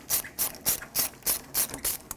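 Worm-type screw clamp on the upper radiator hose of a 1996-2002 Toyota 4Runner being loosened with an 8mm socket ratchet, seven evenly spaced ratcheting clicks, close and moderately loud with no talk.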